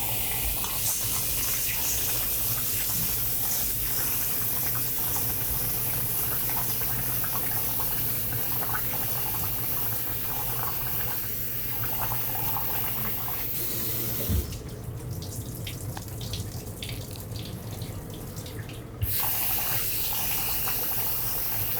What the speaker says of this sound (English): So we're gonna wash it again with cold water 3 times